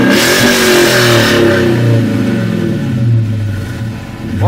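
Up close and loud, a Dodge Challenger R/T V8 with a K&N intake and MagnaFlow exhaust is revved repeatedly, its throaty exhaust note rising and falling over a steady rumbling idle.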